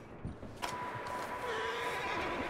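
A horse in Red Dead Redemption 2 lets out a long, drawn-out neigh with a wavering whinny, heard fairly close over soft background ambience and a few faint hoof clops.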